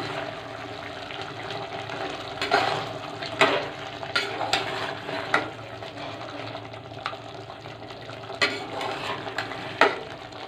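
Goda masala sautéed in a pan for chicken vade gives a continuous hissing sizzle, with spatula scrapes and taps breaking through at irregular intervals; no voices.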